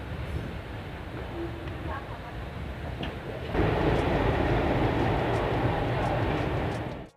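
Humsafar Express train running on the line between stations, a steady broadband rumble and rattle that swells louder about halfway through and holds, with no talk over it.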